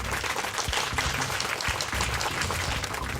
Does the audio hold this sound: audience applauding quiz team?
yes